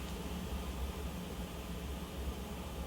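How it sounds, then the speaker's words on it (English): Speakers in a jail cell give off a faint, steady hiss of white noise. It holds a constant, even texture throughout with no voices. "I'm hearing like white noise coming from the speakers."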